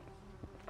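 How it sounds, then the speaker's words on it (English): Carpenter bees buzzing close by in a front garden, a faint steady drone with a brief louder swell as one passes near. "there's all these carpenter bees like right next to me"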